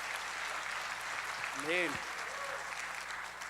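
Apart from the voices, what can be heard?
church congregation applause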